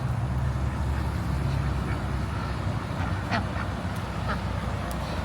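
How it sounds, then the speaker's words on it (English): Ducks quacking at close range beside a fence where they gather, a few brief calls scattered over steady outdoor background noise with a low rumble. "We need some more ducks over here."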